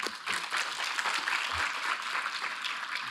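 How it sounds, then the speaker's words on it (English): Steady, dense applause from a conference audience after a round of presentations, a continuous broadband wash of many hands clapping at even loudness throughout. "Another round of applause for our speakers."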